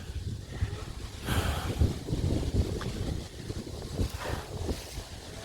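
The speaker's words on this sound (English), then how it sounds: "Oh, it's windy up here." Wind buffets the microphone in gusty low rumbles that rise and fall, with no speech over it.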